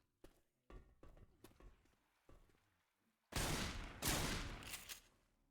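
Impulse grenades going off in a Rainbow Six match: a string of sharp separate bangs and clicks first, then two loud, long, hissing blasts close together near the end.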